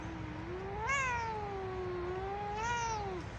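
A cat lets out two drawn-out, whiny meows, the first long and rising then falling, the second shorter, loud and close in a quiet room.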